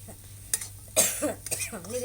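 A vada pav potato mixture is stirred in a pan over a village stove, with scraping and clinks of a spoon in an uneven rhythm and a faint sizzle beneath, while a voice speaks over it.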